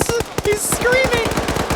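Rapid automatic gunfire in a video game match, with an AK among the weapons, loud and close, under a screaming voice and commentator talk.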